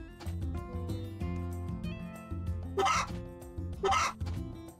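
Chickens in the Story of Seasons farming video game give two short, scratchy clucking bursts a second apart over steady tonal background music.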